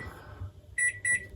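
A Coolwave cooling microwave being set and started: two short, bright electronic beeps from the control panel in quick succession, close by, over a low hum.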